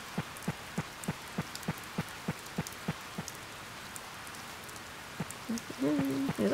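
Rain falls steadily in the Harvest Moon: Save the Homeland farming game, with regular soft droplet taps, some in a pulsing rhythm, under a quiet wash; a brief tonal game chime enters near the end.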